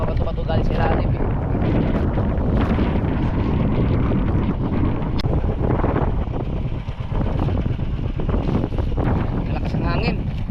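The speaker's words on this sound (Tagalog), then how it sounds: "Malakas ang hangin." Strong wind blowing over a small fishing boat at sea, loud and continuous buffeting across the microphone with a steady roar throughout, people talking intermittently underneath.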